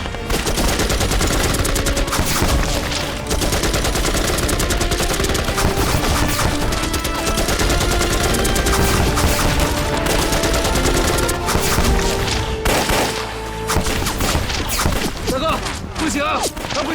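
Gunfire erupting during an ambush, dense continuous bursts of rifle and machine-gun shots layered with shouting voices over a loud, busy battle din.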